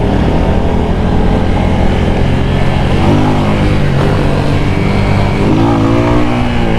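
A brand-new 250cc Rebel T Special Edition motorcycle engine revving loudly and steadily up close, a continuous dense roar with rising pitch toward the end, with no muffler fitted.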